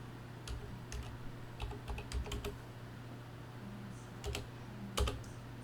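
Keys clatter on a computer keyboard in short irregular bursts, close and moderately loud over a steady low hum, with a few louder clicks toward the end.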